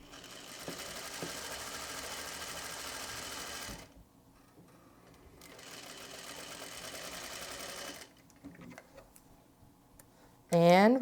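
A domestic sewing machine topstitching a fabric clutch at one-eighth inch, running in steady whirring bursts with a pause between them and mechanical ticking. A louder chirping sound comes at the end.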